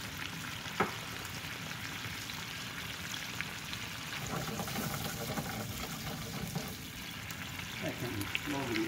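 Sauce with truffle oil reduces in a pan, giving a steady soft sizzle and bubbling crackle throughout, with an occasional light clink of a utensil.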